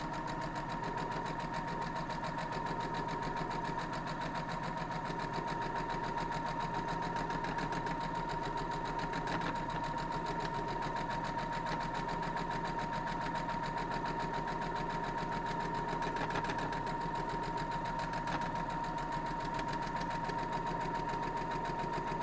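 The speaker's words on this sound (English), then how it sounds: "So we'll be back to the sewing machine." A sewing machine stitching quilt block pieces, running as a continuous, even mechanical hum with a steady whir throughout, with no pauses and no talking.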